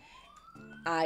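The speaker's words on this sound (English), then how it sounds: "Sorry about the sirens." Emergency sirens passing outside, heard faintly through walls as a rising wail, with a voice talking over it near the end.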